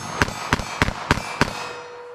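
Five quick shots from a Ruger LCRX 3-inch .22 Magnum revolver on first firing, sharp evenly spaced cracks about a third of a second apart, each with a short ringing tail, then quiet.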